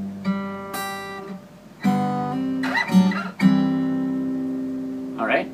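Acoustic guitar playing the intro of a song in G, with hammer-ons and slides: sustained, ringing chords and melodic notes, clear and close, with short gaps between phrases and no voice.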